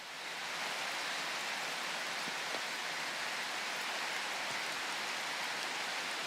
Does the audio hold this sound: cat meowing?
no